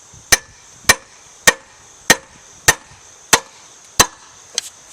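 A hammer strikes an outboard motor's flywheel to pop it loose, eight sharp, evenly spaced metallic blows about half a second apart, close and loud, with a quick double tap at the end.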